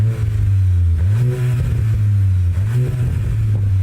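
A Volkswagen Golf Mark 8 GTI fitted with a Scorpion GPF-back exhaust revs loudly and close by, its engine note rising and falling in repeated throttle blips over a steady rumbling idle.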